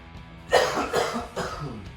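Three harsh, close coughs in quick succession over a constant background hum, each a loud chesty burst, with no talking.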